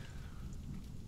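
Steady rain falls in the video game Monster Hunter World: Iceborne, a soft, continuous hiss of drops at a low level with no talking.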